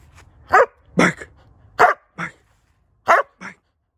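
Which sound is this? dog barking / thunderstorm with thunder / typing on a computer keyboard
dog barking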